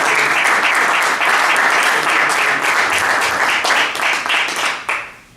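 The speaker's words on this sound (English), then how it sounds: "Let's have a big round of applause for our panel." An audience at a pitch challenge event gives a big round of applause for the panel: loud, dense clapping that holds steady, then tapers and fades out at the end.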